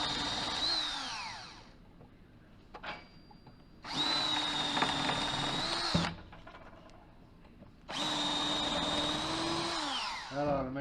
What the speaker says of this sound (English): I'll try drilling them out at least partially and then taking the hand chisel to it